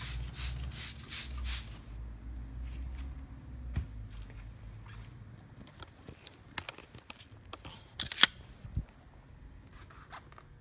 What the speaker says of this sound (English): We're going to spray it on, agitate it with a dedicated wheel brush